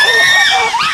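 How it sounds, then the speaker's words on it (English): Chimpanzees shriek in a chaotic chorus after a hunt, overlapping high-pitched screams rising and falling continuously and loudly throughout, with no pauses. "the aftermath of a hunt is often very chaotic. There's a lot of screaming"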